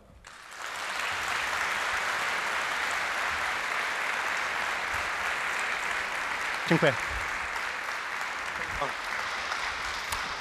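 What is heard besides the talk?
audience applause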